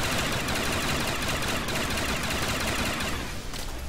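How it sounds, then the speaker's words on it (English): Machine gun fire in a World at War custom zombies map: a loud, continuous automatic roar with no gaps, sustained close up for the whole stretch. "this sounds like a fucking LMG"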